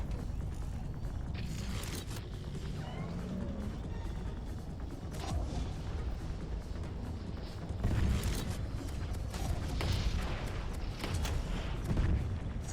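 A Thunder cannon fires in the tank game Tanki Online amid ongoing battle noise. Repeated booming blasts and crashes land over a dense, continuous mechanical din, growing heavier around the middle and toward the end.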